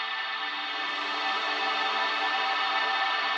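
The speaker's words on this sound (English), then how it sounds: "Push that reverb up really high, make it more of an atmosphere." A processed guitar drenched in very high reverb makes a sustained, smeared ambient wash with layered tones. It swells slightly and holds steady, with no attack or voice.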